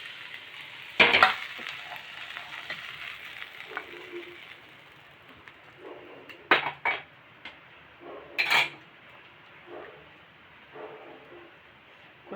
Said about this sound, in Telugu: పచ్చివాసన పోయేంత వరకు వేయించుకోవాలి మునగాకు